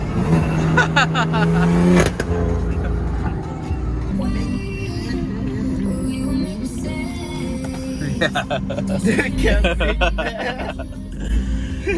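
Stage 2 tuned BMW running E85 accelerating hard at a large BMW car meet, its engine droning loud and close for several seconds while people talk over it.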